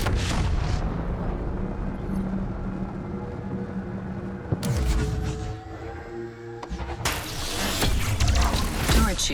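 An enemy turret in Starlink: Battle for Atlas fires projectiles as heavy, rumbling bursts over dense mechanical game noise. There are sharp transitions as the barrage starts and stops.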